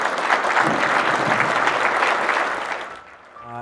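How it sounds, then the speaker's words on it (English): A Rotary gathering's audience gives a speaker a welcoming round of applause, dense and loud, fading toward the end as a tone begins. "Please give a warm, rotary welcome to Dave Clark."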